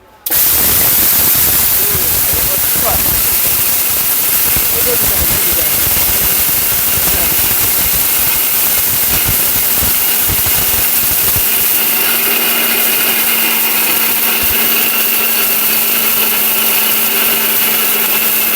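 A powerful steel robot blender grinds lentils (dal) into powder with a loud, continuous roaring whir that starts abruptly and holds steady, its pitch settling partway through.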